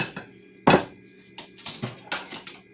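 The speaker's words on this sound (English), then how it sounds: "we're going to stir that up" A spoon stirs a fudge mixture of cocoa, sugar and a pinch of salt in a pot, making several sharp clinks and scrapes against the metal in an uneven rhythm, fairly close and with no talk.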